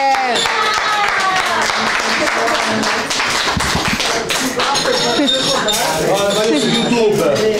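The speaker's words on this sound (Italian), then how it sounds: "Un applauso al carnevale!" Crowd at the Ivrea historic carnival giving a round of applause, with clapping and tapping mixed into loud overlapping voices, music and clinking sounds.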